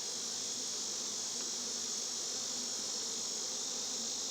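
Honey bees at a beehive with capped brood give a steady, even buzzing drone that holds throughout, close and continuous with no talking.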